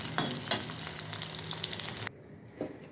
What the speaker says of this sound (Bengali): আলুটা লাল করে ভেজে নিলাম।